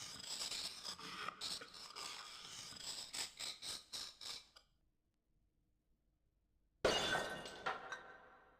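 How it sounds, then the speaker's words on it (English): Glass cabinet smashing in the Discworld video game: a dense run of crashing, shattering glass and tinkling shards, then a near-silent pause, then one more sharp loud burst of breaking glass. "The troll's tooth scored through the cabinet's glass like an accountant through a rich man's wallet."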